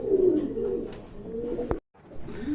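A pair of large Yellow Mumbai pigeons coos close by in low, rolling bursts, with a brief click and a moment of silence partway through.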